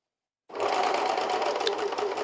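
A home sewing machine starts abruptly after a moment of silence, then runs continuously at high speed with a steady, even whirring drone.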